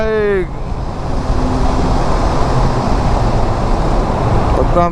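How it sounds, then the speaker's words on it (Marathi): A motorbike rides through the Katraj tunnel, its engine and road noise merging into a dense, loud, continuous roar that echoes off the walls, with brief tonal sounds at the start and end. "आता आमच्या बाईकचा गोंगाट ऐकायला येतो इकडे"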